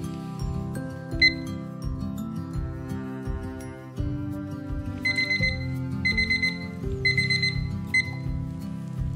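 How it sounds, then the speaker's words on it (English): A 12-minute kitchen timer goes off in a home kitchen while chicken poppers bake, sounding a repeated electronic alarm whose rhythmic beeping pulses run for about nine seconds, loud and steady with no talking. "Our 12-minute timer just went off"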